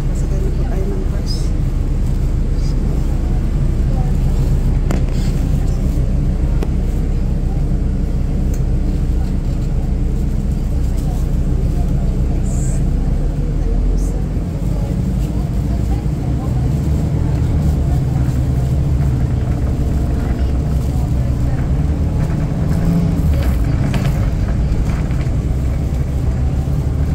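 Steady low engine rumble and road noise inside a moving city bus, continuous throughout, with wind buffeting and occasional rattles, and a person speaking over it.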